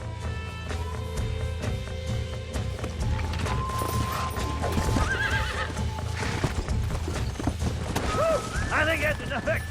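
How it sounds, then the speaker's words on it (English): Horses galloping and neighing in the Western video game Red Dead Redemption: rapid clip-clop hoofbeats throughout, several sharp whinnies rising over the rumble, with game ambience and a voice speaking underneath. "You get back on your own horse."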